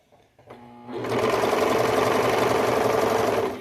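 A Brother 35 serger set to a very short stitch length starts up and runs fabric through, its needles and knife chattering in a fast, steady mechanical hum at close range.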